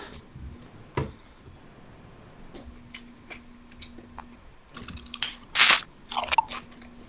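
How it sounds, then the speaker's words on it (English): Plain potato chips crunch in someone's mouth close to a microphone, with irregular crisp bites and chewing bursts growing louder toward the end over a faint low hum. "Kind of chips you munching on over there?"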